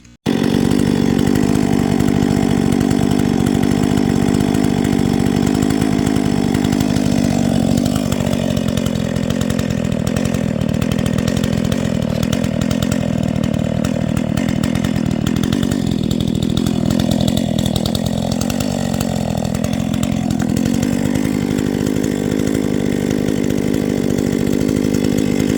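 A small Husqvarna 130 chainsaw cuts wood, a loud continuous engine snarl that dips and surges as the chain bites through the log, close by with no talking.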